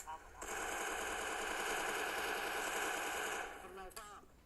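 Sustained automatic gunfire in the Special Force online shooter, a dense rapid burst lasting about three seconds at steady loudness, then breaking into a few scattered shots and faint game noise.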